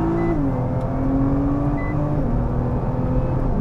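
Nissan GT-R safety car accelerating hard around the Assen circuit, a loud steady engine drone with rising harmonics as revs climb and shift, heard from inside throughout with no talking.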